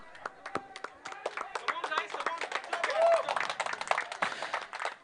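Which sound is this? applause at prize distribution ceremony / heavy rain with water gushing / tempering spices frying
applause at prize distribution ceremony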